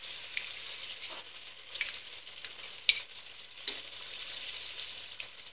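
Garlic, ginger, green chillies and spices go into a hot frying pan for egg curry, giving a steady close sizzle with scattered stirring clicks and scrapes, no talking.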